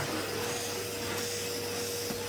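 A vacuum cleaner fitted with a turbo brush runs over a bedroom carpet, giving a steady, fairly quiet whooshing hum throughout with no talking.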